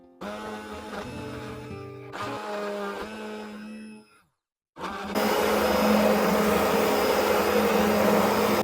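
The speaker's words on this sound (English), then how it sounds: "then I need to use this stick blender to mash it all up." A stick blender whirs loudly mashing boiled food, pauses and restarts several times, then cuts out briefly before roaring back at full, steady power.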